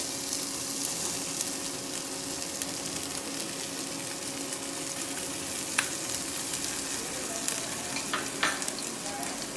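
Ginger garlic and green chili paste fries in a pan, a steady close sizzle with occasional scraping stirs and small pops, no voices.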